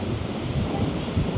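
Rough sea waves roll in at Pattaya beach, a continuous heavy rushing surf with low rumble and buffeting wind against the microphone, no voices.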